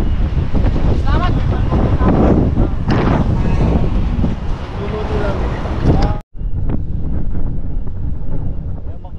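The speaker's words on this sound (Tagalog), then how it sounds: "Kaya sobrang hangin, di tayo makapagluto dito sa labas." Strong wind gusts across an outdoor cooking spot, a loud, steady rushing roar that cuts out for a moment partway through, with people talking under it.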